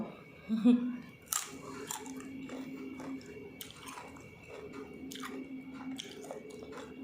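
Someone eating food with soft, wet chewing and occasional biting sounds, close to the microphone, over a quiet background with a faint steady hum.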